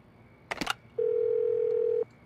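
A telephone dial tone in the video game Do Not Feed the Monkeys: a quick burst of button beeps, then a steady pure tone that holds for about a second before cutting off.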